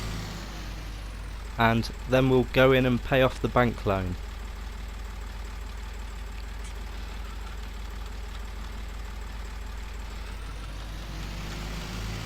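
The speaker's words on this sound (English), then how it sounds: "So I need to park the tractor in the shelter" A farm tractor idling while being parked in a shelter; low, steady engine drone throughout, with someone talking briefly over it near the start.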